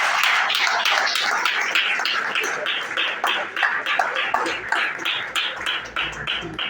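A church congregation applauds together with dense, continuous clapping, many hands close and loud in a lively, slightly rhythmic patter throughout.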